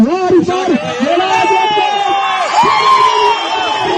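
Crowd celebrating a victory at a cricket ground in Dir Lower, loud overlapping shouts and chanting voices close by, sustained and excited throughout.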